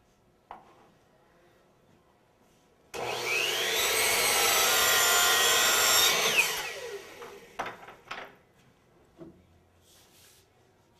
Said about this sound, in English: We're going to cut an inside miter.